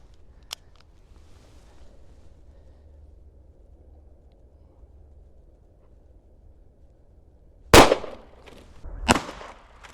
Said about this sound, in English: Shoot in the polycarbonate acrylic plexiglass.